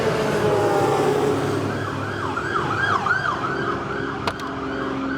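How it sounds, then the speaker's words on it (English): A fire truck siren wails in rising and falling sweeps as it passes by, over a loud rumble of traffic, followed by a short sharp click. "We have a fire truck that is about to go by."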